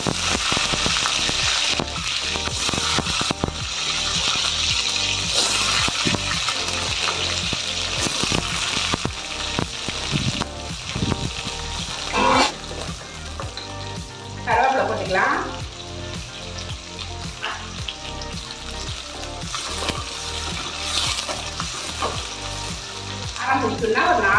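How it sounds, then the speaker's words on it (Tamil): Whole shallots and garlic sautéing in oil in a pan for spicy fish curry, a loud sustained sizzle with intermittent stirring scrapes and clatter, no talking. "வெங்காயம் பூண்டு எல்லாமே வதங்கிடுச்சு"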